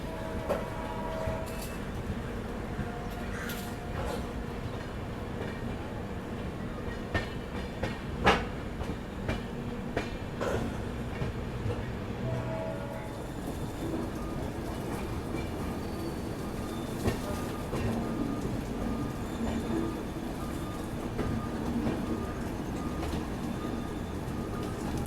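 The Surat Malda Town Express rolls along the Tapti line past Nandurbar toward Jalgaon, heard from inside a coach as a steady, loud rumble of wheels on rails with occasional sharper clicks and clanks throughout.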